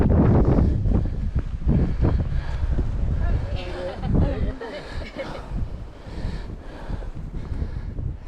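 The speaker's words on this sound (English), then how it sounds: "It's windy as hell" Strong wind buffets the microphone on an exposed hilltop hike near Captain Cook's Monument, a continuous loud roaring rumble with gusts, with people talking over it.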